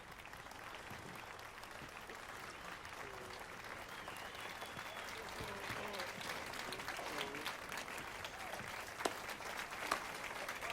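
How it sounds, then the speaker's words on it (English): A video game crowd in The Witcher 3: Wild Hunt claps steadily, the applause swelling slightly over time, with a voice faintly audible underneath. "Even one as hardened as Geralt can't help but applaud"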